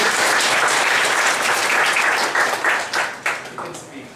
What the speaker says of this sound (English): Claps to Dinesh.